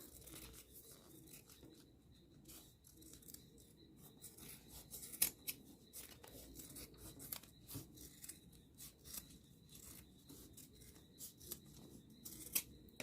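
Scissors trim the fabric edges of a sewn school pencil case, making faint, close, intermittent snips and rustles over a quiet background, with no talking.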